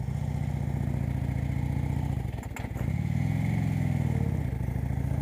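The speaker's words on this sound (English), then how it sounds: "Even after years of riding, you still occasionally miss the shift." Motorcycle engine droning steadily on the road, with a brief clattering break and engine dip at a missed gear shift before the engine picks up again under wind noise.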